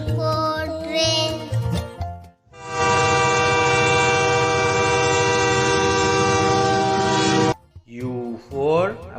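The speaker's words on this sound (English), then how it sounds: "T for train." A train horn blares loud and steady for several seconds, with voices speaking briefly before and after it.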